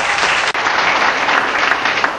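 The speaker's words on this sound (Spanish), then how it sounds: "A José Lampaz y Pocha, el aplauso para ustedes." Sustained, loud applause from an audience at a tango tribute event, a dense wash of clapping that fills the whole clip with no talk over it.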